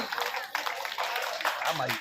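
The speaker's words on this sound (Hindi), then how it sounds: "जोरदार ताली।" An audience at a Shrimad Bhagwat katha gathering claps in loud, dense applause, with a voice speaking over the clapping.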